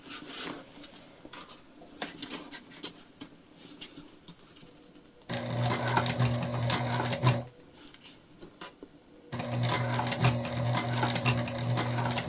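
A sewing machine stitches through the bulky seam of a self-drafted tote bag, a quiet start giving way to two loud, steady runs of motor hum and needle chatter, close up, with no talk.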